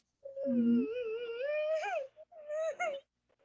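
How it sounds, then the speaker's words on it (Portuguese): Someone nearby cries in a high, drawn-out wailing sob that rises and wavers, then breaks off into a second shorter whimpering bout, heard alone during an online meeting. "Quem é que tá chorando?"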